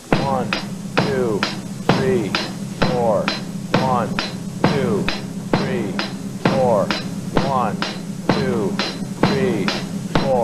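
Bass drum in a beginning rock drum lesson, struck in steady quarter notes. Evenly spaced deep thumps land on every beat while a voice counts along over them.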